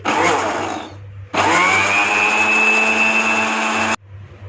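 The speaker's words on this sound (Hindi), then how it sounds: "30 सेकंड्स के लिए दोबारा ब्लेंडर मशीन चलाएंगे हाई स्पीड पे।" A blender whirs loudly, stops briefly, then roars again at high speed with a rising whine before cutting off abruptly.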